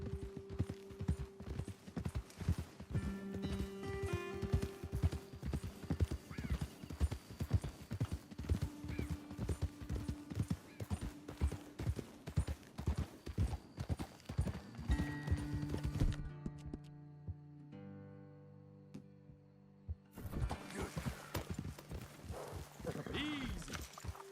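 Steady clip-clop of horse hooves walking at an even rhythm in Red Dead Redemption 2, close by, with a brief whinny and a tonal game soundtrack underneath.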